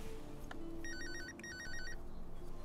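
A phone rings in two bursts of a warbling electronic trill, with a short gap between, fairly quiet over a low background hum.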